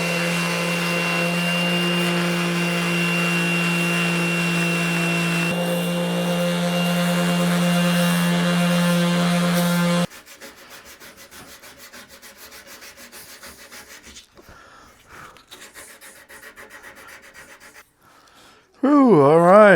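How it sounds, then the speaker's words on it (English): Wood for a rocker cradle is sanded by hand. A steady humming drone runs for about ten seconds, followed by quieter, rough rubbing strokes, and a brief high whine closes the stretch. "Coming to the end of sanding."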